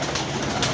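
A pigeon cooing while paired with a female gives a brief, soft, low coo, close by and alone with no talk.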